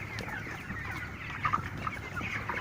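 Broiler chickens on a poultry farm cluck and chatter in a dense, continuous flock murmur, with a few louder, closer clucks rising from the steady background noise.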